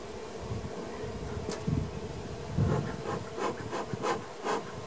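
Bees buzzing in a hive, a steady low insect drone with scratchy rustling and brief louder bursts near the microphone, continuing throughout without speech.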